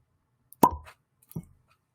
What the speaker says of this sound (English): So quiet on the set for the fresh cork pop.